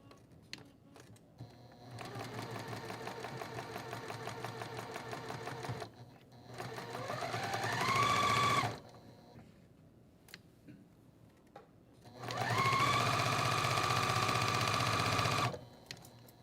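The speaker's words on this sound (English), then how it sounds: "Then I'm gonna sew down this intersection" A sewing machine stitches a quilt block in three bursts of rapid, even needle chatter, close and clear, with short quiet pauses and light handling clicks between runs.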